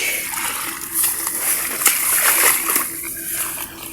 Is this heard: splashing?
yes